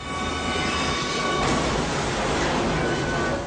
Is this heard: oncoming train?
yes